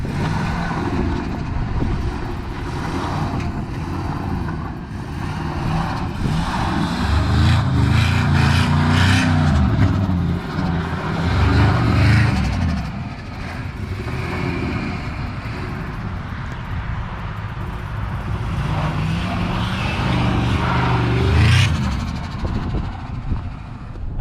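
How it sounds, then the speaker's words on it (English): A turbocharged Ford F150 pickup spinning 4-wheel drive donuts, its engine droning and surging as it revs up and eases off, rising to a louder stretch in the middle, with tyre and exhaust noise and no talk. "4-wheel drive donuts are way better than 2-wheel drive donuts."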